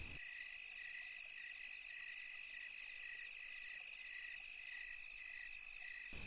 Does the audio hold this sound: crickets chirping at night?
yes